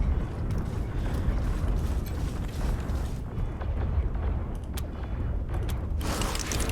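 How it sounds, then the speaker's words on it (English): Mechanical creaking and ratcheting from a wrench loosening nuts in the video game Wasteland 3, a steady grinding mechanism sound under dense, continuous game noise. "now they give us a wrench that's specifically for loosening nuts"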